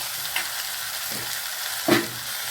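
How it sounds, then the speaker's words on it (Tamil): Green chillies and onions frying in a pan for a Tamil karunai kizhangu masiyal, a steady soft sizzle with two brief stirring scrapes, close and moderate in level, no talking. "இப்போ இது எல்லாத்தையும் நம்ம போட்டு வணக்கிடலாம் பச்சை மிளகாய் இது வந்து நல்லா வணங்கட்டும்"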